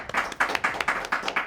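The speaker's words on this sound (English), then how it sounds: "Everyone, give her a round of applause." A small group claps by hand at a video game quiz show, the claps coming quick, close and loosely rhythmic over a short stretch.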